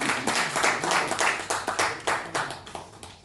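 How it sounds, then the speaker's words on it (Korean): Audience at a book talk applauds, a dense run of hand claps that is loud at first and thins out toward the end, with no one speaking over it. "박수!"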